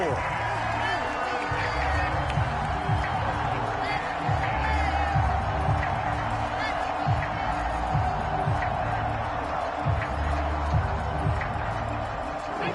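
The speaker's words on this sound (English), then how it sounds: "Crowd getting in it a bit already." Football stadium crowd at a Bears game against Myles Garrett's team roars in a steady, dense wash of cheering that runs the whole stretch, with bursts of whooping on top and faint murmur beneath.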